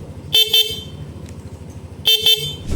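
Two pairs of short, bright horn beeps from a Yamaha NMAX 155 scooter, loud and close, separated by a pause, with a quiet idle hum underneath.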